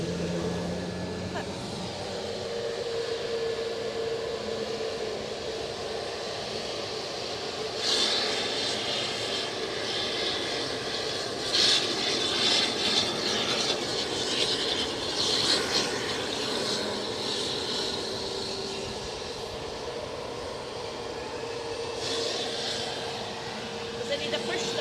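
Aircraft engine noise at Edinburgh airport, a steady broad roar filling the scene with surges and swells as the engine revs, heard outdoors with people talking over it.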